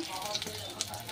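Fish fries in a pan on a gas stove with a soft, steady sizzle and faint crackles, while a voice talks over it.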